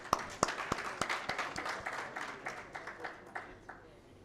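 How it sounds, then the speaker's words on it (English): Audience clapping at a summit session, starting with a few sharp nearby claps that quickly thin into lighter, scattered applause from a modest crowd, fading out over a few seconds. "Let's give her a clap."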